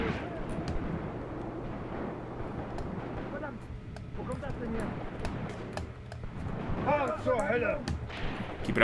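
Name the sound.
gunfire in Graviteam Tactics Mius Front video game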